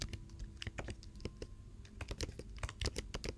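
Rapid, uneven clacking of a computer keyboard being typed on nearby, a quick burst of keystrokes with no talking.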